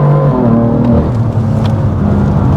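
A BMW M4 accelerates hard at full throttle, its engine note loud and close from inside the car, with tones rising and shifting as it pulls.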